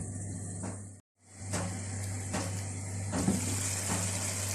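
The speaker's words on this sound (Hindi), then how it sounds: "अब मैं इसमें ½ कप के करीब पानी डाल दूंगी।" Water poured into egg korma gravy in a pan on the stove, a steady close splashing pour with a low hum underneath and a brief gap near the start.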